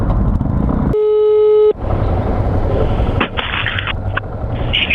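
Phone ringback tone heard through a motorcycle helmet intercom, a steady electronic beep lasting under a second, followed by a second intermittent tone, over a low rumble of road and engine noise.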